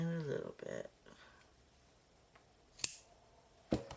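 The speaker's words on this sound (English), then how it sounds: "we gotta trim the edges a little bit." Scissors snip the edges of a lace rose journal in a few sharp, isolated cuts spaced apart, quiet and close, with brief speech-like sounds at the start.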